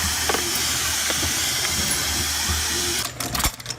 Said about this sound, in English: The shell then passes through a press to shape the head of the cartridge.